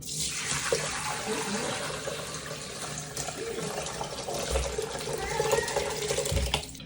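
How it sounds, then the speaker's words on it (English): Homemade chicken stock strained through a sieve in a kitchen, giving a steady broadband pour and trickle of liquid that runs for several seconds, fairly close, with faint voices murmuring underneath. "we're gonna strain it through a sieve to get the rest out"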